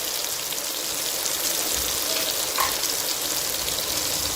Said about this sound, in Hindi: और अब 3 से 4 मिनट के लिए इन मसालों को मैं पका लेती हूँ।